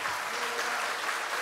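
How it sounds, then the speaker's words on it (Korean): Church congregation at a testimony service with a guest vocalist applauding, a steady dense wash of clapping filling the room for the whole moment, no voices rising above it. "우리 뜨거운 박수 한번 부탁드리겠습니다"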